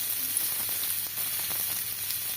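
Onion sautéing in a little oil for a mushroom-cheese samosa filling gives a soft, steady sizzle and hiss, fairly faint and continuous, with no voices.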